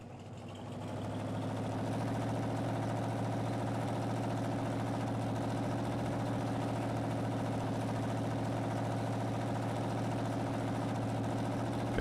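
A tractor engine in Farming Simulator 19 drones steadily throughout, a constant low mechanical hum that rises in the first second and then holds even and unbroken, with no talking.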